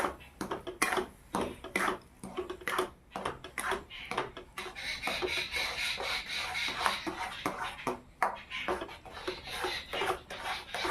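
Chhena being stirred in a pan over a low flame for mango sandesh, with rhythmic scraping and soft clinks of a spoon against metal repeating steadily up close, a faint soft sizzle at times, no speech.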